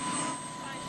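Small passenger plane landing on a tidal beach in Scotland, a steady engine drone with a faint hum, heard briefly and at moderate distance.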